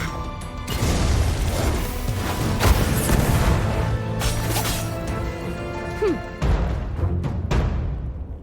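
Loud crashing and booming blasts from an explosion in the fantasy game Dragonheir: Silent Gods, with dense impacts and rumbling debris continuing for several seconds before a brief drop and renewed clatter.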